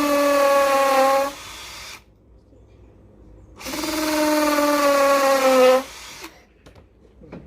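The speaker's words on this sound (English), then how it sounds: "he's drilling a hole in first. He's drilling a hole" A power drill bores into wood in two bursts, its motor pitch sliding as it bores, separated by a short pause, followed by a few faint clicks.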